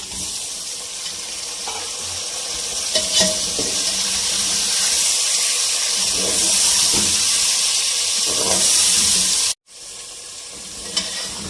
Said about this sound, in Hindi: अब व्यूअर्स, इसमें हम ये चिकन डाल देंगे।